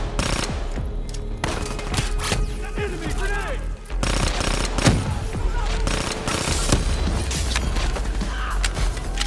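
Submachine gun fire in Call of Duty Black Ops 3, repeated loud bursts with mechanical clatter and impacts, with speech partly overlapping.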